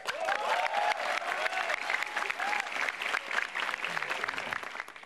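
A stand-up comedy crowd breaks into steady applause, a dense wash of clapping from a sizable room with faint voices and cheers mixed underneath throughout.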